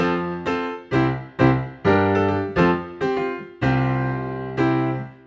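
Bright, honky virtual piano notes from Pianoteq with hard hammers, struck one after another with a hard, percussive attack, each chord ringing briefly before the next, played alone at moderate loudness.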